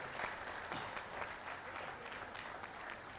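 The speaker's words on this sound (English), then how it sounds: "can we have a big round of applause for this wonderful session right before lunch?" Seminar audience applauding after a session just before lunch, a fairly faint but continuous patter of many hands at an even level throughout, with no speech.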